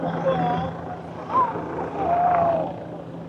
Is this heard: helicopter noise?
yes